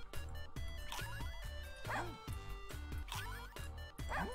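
Cartoon dogs in the Russian Subway Dogs video game bark and yip in rapid succession, a steady run of short sharp barks over game music, with no talk.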